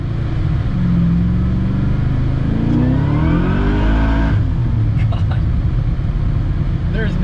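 A supercharged LS3-swapped BMW E39 accelerates hard with a loud rising engine roar heard from inside the car, then backs off. Voices talk over the engine throughout.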